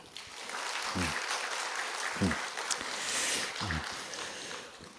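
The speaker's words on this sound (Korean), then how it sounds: "수고하신 모든 분들을 박수로 격려해 주시기 바랍니다" Applause from a congregation at a church graduation ceremony for a discipleship course, a steady broadband patter holding for several seconds, with brief voice fragments breaking through at intervals.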